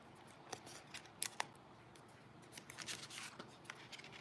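Adhesive paper-craft pieces peeled off a backing sheet while assembling a card, giving soft crinkly rustles with a few sharp close ticks and tearing bursts against a quiet background.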